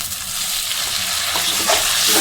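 Onions and chilies frying in a pan for an aloo baingan sabzi as tomatoes go in, a loud, close, steady sizzle with stirring scrapes and brief bursts of crackle.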